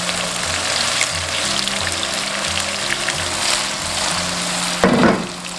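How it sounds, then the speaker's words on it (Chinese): Tofu pan-fries gently in cooking oil over medium-low heat, a soft continuous sizzle with low background music, then a brief louder burst of crackling near the end. "锅中倒食用油，下豆腐，中小火慢煎"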